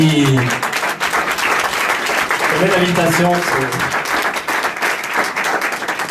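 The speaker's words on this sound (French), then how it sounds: "On l'applaudit bien fort, merci." An audience at a live demonstration claps steadily and loudly for a volunteer while voices speak over the applause.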